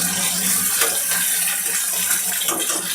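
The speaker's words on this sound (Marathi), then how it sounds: "कांदा लसूण एकत्रच फ्राय करायला टाकू." Onion and garlic frying together in hot oil give off a steady, close, broadband hiss that holds evenly throughout with no voices.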